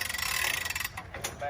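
A pontoon boat lift leg is cranked down with a fast ratchet clicking that is faint and brief. A softer clunk follows as the cranking stops.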